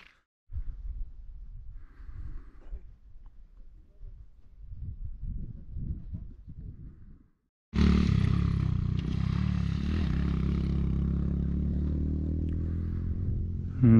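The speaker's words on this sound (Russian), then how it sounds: "Да, кто-то на мотике сюда приехал." A motorcycle on the Kok Zhailau mountain plateau above Almaty, first a low, uneven rumble like wind or distant movement, then a loud, close engine drone that sets in abruptly and holds steady to the end.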